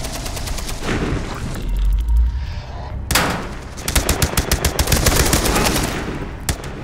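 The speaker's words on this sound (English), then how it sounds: "Kill this guy with the big Gatling gun." Heavy Gatling gun fire in the video game Beyond: Two Souls, a rapid sustained rattle of shots that drops out briefly, then returns in a loud, dense barrage.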